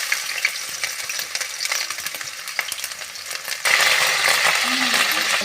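Cumin, garlic and ginger go into hot oil in a kadai for a spinach dish, giving a close, continuous sizzle with a few small clinks and stirring noises, and the frying jumps louder and fuller partway through.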